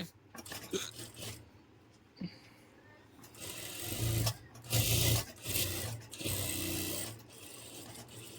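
A sewing machine stitches a patiala pajama in several loud, close bursts of rapid whirring, separated by brief pauses with soft handling noises.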